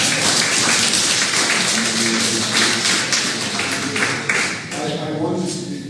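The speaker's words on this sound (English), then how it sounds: "give yourselves, I'm going to say, clap for yourself" At an agricultural certificate ceremony, an audience applauds itself, a steady wash of clapping with some talk mixed in.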